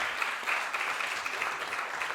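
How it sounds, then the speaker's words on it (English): An audience applauds steadily after a debate event, a dense wash of many hands clapping at even loudness throughout. "Give them a round of applause."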